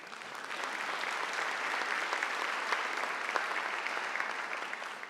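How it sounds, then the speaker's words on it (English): A convocation audience at GSU applauds with a full, continuous patter of many hands clapping. It sounds moderately distant and stays even for about five seconds. "Well, let's applaud him anyway."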